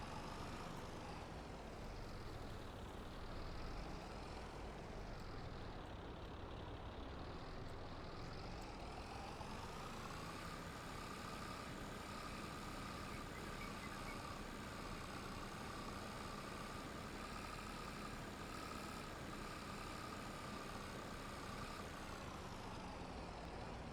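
A tractor engine in Farming Simulator 22 drones steadily while driving over a silage pile to compact it, a constant mechanical hum that rises slightly in pitch partway through, with no talking.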